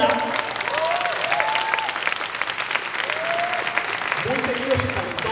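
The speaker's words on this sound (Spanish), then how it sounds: "un aplauso por favor de Puebla" Audience applause at a convention stage in Cuernavaca, a steady wash of clapping and crowd noise throughout, with singing or talk rising over it.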